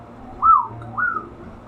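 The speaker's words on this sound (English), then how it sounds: "whistling of the wooden carvings" Wooden carvings give off two hollow, airy whistles in a fantasy setting, each a short rising and falling tone with a brief gap between, faint over a low background hum.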